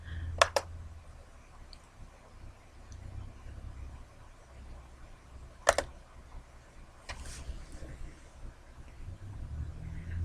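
Computer mouse clicks while working in an Excel spreadsheet: a couple of sharp, close double clicks near the start, another loud click mid-way and a softer one after, set against quiet room hum.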